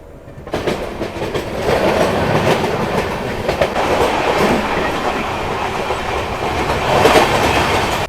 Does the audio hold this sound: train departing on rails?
yes